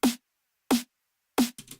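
Three crisp, bright electronic snare drum hits from a simple game-music beat, evenly spaced and alone, each short with a snappy body, the last followed by faint trailing noise.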